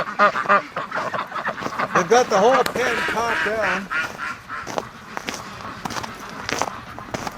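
Breeding ducks quacking in their pen under a building, a busy run of close nasal calls mixed with footsteps and shuffling while a person talks over them.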